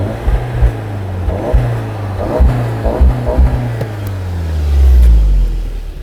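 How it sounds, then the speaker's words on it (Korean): A Volkswagen Golf R with twin dual-outlet mufflers booms with a deep, drumming low-frequency exhaust note that pulses in repeated throbs, then swells into a sustained heavy rumble near the end. "머플러가 크기만 큰 것이 아니고 사운드도 굉장히 이 차에서 나는 사운드라고 믿어지지 않을 정도로 굉장히 북치는 것 같은 그런 사운드가 납니다."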